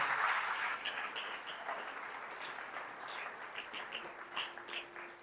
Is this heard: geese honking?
no